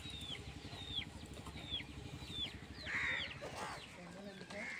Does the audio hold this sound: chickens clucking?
yes